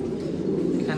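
Fancy pigeons, a newly bred pair from Ludo and Chicago stock, coo in low, soft, continuous murmurs at close range in a loft.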